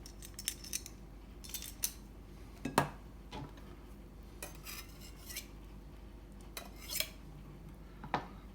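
Cutlery and dishes clink and scrape while beef and pak choi noodle soup is plated, scattered light taps and knocks spread through a quiet kitchen, no talking.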